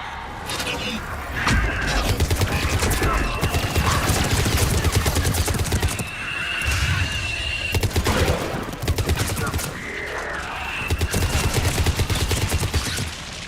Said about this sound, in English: That's it for the missiles. Switching to the gun.